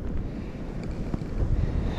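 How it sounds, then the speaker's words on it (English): Wind gusts through the Adirondack woods on a deer-hunting trip, a loud, rough, steady rush close to the microphone with no voices. "Nice windy day today."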